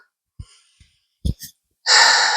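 Slow breaths during a yoga session: a few soft, separate inhales and exhales spaced out over the first moments, followed by a longer, louder airy exhale at the end, close to the microphone with no talking.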